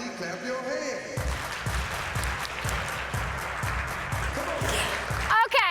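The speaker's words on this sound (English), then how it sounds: "Everybody clap your hands." A conference audience at a healthcare association event claps along, the steady rhythmic hand claps falling on a beat over crowd noise for several seconds.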